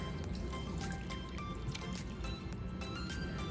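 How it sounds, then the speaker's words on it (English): Water runs and splashes continuously close by, with wet squishing and dripping as sea moss is rinsed under a flowing stream. "So I'm gonna rinse it all off."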